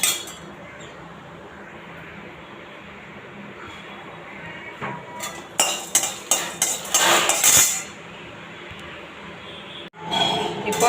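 Pepper, cumin and coriander dry roast in a pan, quiet at first, then a run of sharp metallic clinks and scrapes from a spoon stirring against the pan, loud and close, with a short pause before more stirring.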